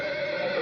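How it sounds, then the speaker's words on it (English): An Akhal-Teke thoroughbred horse gives a short, loud, close whinny, alone and clear. "It's an Akolteika, one of the most beautiful, spirited, and rarest of thoroughbreds in the world."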